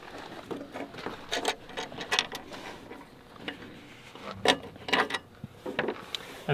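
Bolt being loosened through the back of the step on a 2022 Arctic Fox 1150 camper, heard as irregular close metallic clicks and ratcheting taps with short pauses between bursts.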